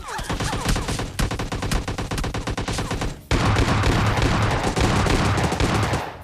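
Rapid gunfire from the PUBG Lite battle royale game, dense bursts of automatic shots that pause briefly and then resume as sustained, loud overlapping fire.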